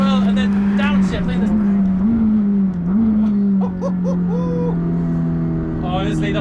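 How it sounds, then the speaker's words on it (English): A McLaren 620R engine drones loud and close, with quick gear shifts breaking the revs and then a downshift blipping the throttle, while someone talks over it throughout. "Listen to these shifts as well, and then downshift."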